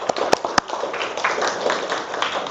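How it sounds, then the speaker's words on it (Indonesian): Classmates in a classroom applaud a student, giving a short burst of dense, close clapping that opens with a few sharp individual claps and then runs on steadily. "Tepuk tangan buat Andi ya."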